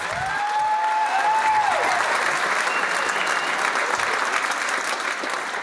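A pageant audience applauds the contestants at a Maid of Petroleum contest, a dense, steady wash of many hands clapping throughout, loud and close, with a few faint whistles or voices mixed in.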